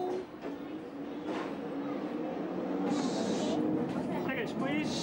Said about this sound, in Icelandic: Og þá fer lestin af stað.